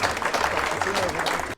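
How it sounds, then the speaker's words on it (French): Crowd applause for a finisher at a mountain trail race, steady clapping mixed with cheering voices that holds loud and fairly close for most of the moment, then cuts off abruptly. "Une nouvelle fois des applaudissements pour Benoît."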